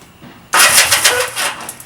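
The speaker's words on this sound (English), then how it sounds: "this is what the issue looks like when your starter clutch" A Honda CB175 motorcycle with a faulty starter clutch bursts into sudden, loud, harsh cranking after a quiet half second, then keeps grinding and pulsing unevenly close by.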